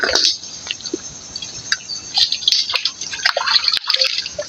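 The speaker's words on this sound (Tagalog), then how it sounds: "Pasok na yung tubig." Water flows and trickles into an oyster farm enclosure, with a continuous splashy hiss and scattered drips and gurgles close by.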